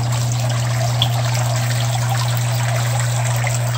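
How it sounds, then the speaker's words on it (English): Water bubbles and trickles steadily in a DIY aquaponics setup with water bars for water movement, a continuous close gurgle over a constant low pump hum. "You hear the water bubbling up."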